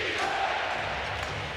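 Arena crowd roaring steadily and close during an NBA game between the Chicago Bulls and Philadelphia 76ers, a dense wash of voices building as the home fans come alive in the fourth quarter.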